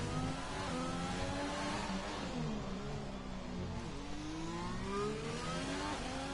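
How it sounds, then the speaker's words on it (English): A Renault race car engine in a sim racing game at the Singapore GP screams steadily throughout, its pitch dipping and climbing again as the car is pushed through corners, loud and continuous with no talk. "The Renault driver really pushing through here."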